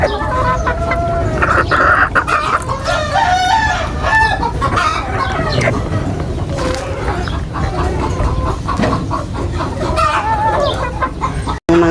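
Roosters and chickens at afternoon feeding, with vitamins given, cluck busily and crow repeatedly, loud and close in an overlapping farmyard chorus that runs throughout.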